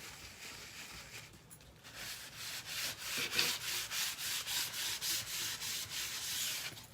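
Wax being rubbed by hand onto a chalk-painted craft surface, a soft close rubbing that settles into a regular back-and-forth rhythm of quiet swishing strokes, with no talking.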